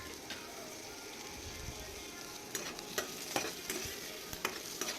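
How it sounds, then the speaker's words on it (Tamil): Long-sliced large onions sauté in coconut oil with a soft continuous sizzle, while a spoon scrapes and stirs in intermittent taps, close and moderately quiet. "ஒரு நீல வாக்கில் கட் பண்ணி வச்ச பெரிய வெங்காயம் நல்லா வதக்கிக்கோங்க."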